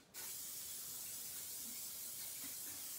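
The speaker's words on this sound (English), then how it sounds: "Slight spray," Fixative hisses steadily from a spray can over a soft pastel drawing of a ballerina, one continuous close burst lasting a few seconds without speech.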